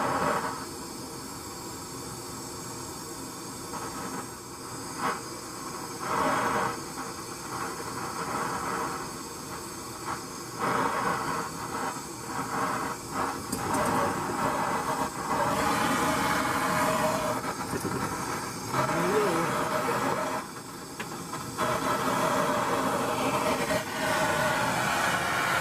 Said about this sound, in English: A nice little exhaust fan here.